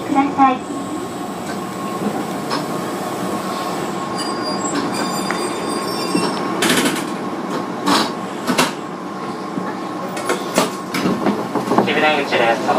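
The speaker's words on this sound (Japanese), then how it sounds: "電車はすぐに発車いたしますので、お降りになられましたら、電車から離れてお歩きください。" An Eizan Railway Kurama line Kirara train pulls out of a station in Kyoto, with a steady rumble of rail running, wheel squeal and clattering bursts, plus tonal station chimes or announcements in the background.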